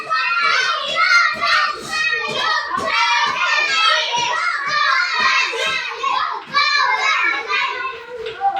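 A classroom group of children claps together for a winning team, sharp rhythmic claps running steadily under loud, excited children's voices.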